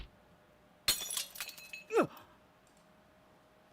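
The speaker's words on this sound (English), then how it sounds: "I heard the sound of shattering glass and the impact stopped." Glass shatters in a visual novel scene: one sharp crash followed by tinkling shards and a second short smash, loud against a quiet background with a low steady hum.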